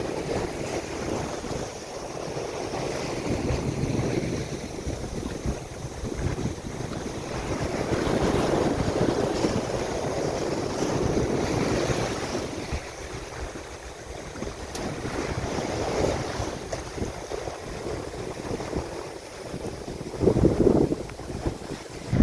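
A sailboat under way in the Baltic off Fehmarn, Germany, with continuous wind buffeting the microphone and waves washing and slapping along the hull, a steady broadband rush that swells and eases with no voices.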